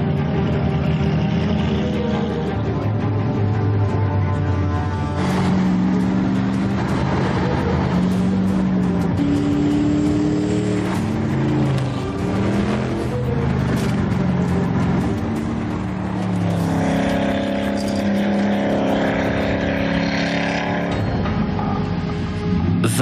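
A Gumpert Apollo Enraged sports car on a test drive, its engine droning steadily and loudly throughout with shifting revs and tonal engine harmonics, no pauses.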